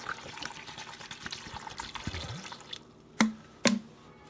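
Water pours and trickles into a cast iron Dutch oven outdoors at a fire while corned beef, potato and garlic are prepared, a steady splashing flow followed by two sharp clanks near the end, with no talking.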